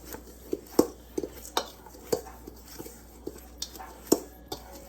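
Lobster tails are tossed with citrus seasoning in a bowl, with sharp clinks and taps of a utensil against the bowl in an irregular, close rhythm and a soft mixing rustle between them.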